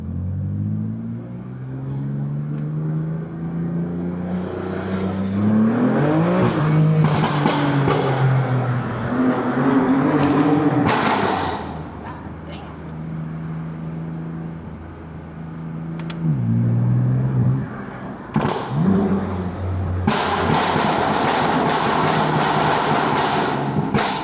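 A BMW F80 M3 engine revs and accelerates hard from inside the car, its loud, rising mid-range roar climbing through gears with sharp shifts, dips and surges, no voices over it.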